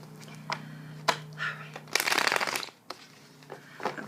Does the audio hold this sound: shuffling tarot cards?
yes